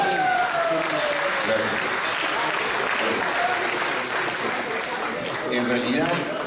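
Conference audience in Peru applauding to welcome a guest lecturer, a steady dense wash of clapping throughout, with a brief word of thanks spoken over it near the end.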